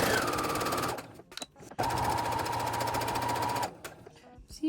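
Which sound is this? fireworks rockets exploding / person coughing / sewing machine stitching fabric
sewing machine stitching fabric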